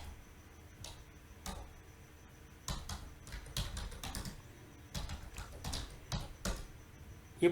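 Keys on a computer keyboard click in quick, irregular bursts as a name is typed, faint and close, with short gaps between the clusters of keystrokes.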